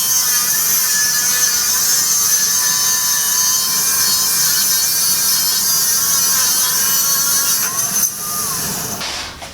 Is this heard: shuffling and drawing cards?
no